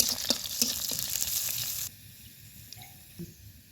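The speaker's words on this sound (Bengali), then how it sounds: "দিলাম তেল, সামান্য পেঁয়াজ কুচি, আমি ভাজা ভাজা করে নিব।" Chopped onion frying in oil in a pan alongside pond fish and roe, a close crackling sizzle with stirring clicks that drops to a quieter simmer partway through.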